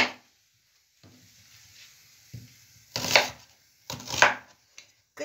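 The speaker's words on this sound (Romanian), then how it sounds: "O să tocăm ceapa pe care o să o călim în jumătate de litru de ulei" Onion being chopped with a knife on a board, a few sharp, fairly loud chops spaced apart after quiet scraping and handling noises.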